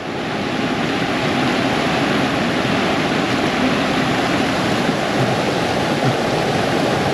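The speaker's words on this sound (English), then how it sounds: "The water's really moving." Fast-flowing water in a small orange-tinted mountain stream beside a campsite, a continuous loud rushing and gurgling that stays close and steady throughout with no voices.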